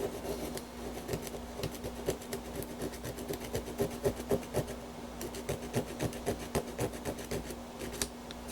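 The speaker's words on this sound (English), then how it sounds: "And now I'll just sand it down a little bit." An arcade filter board's edge connector being sanded down during a repair, a quick rhythmic scratching of repeated short strokes with a faint steady hum underneath, close and moderately quiet, with no speech.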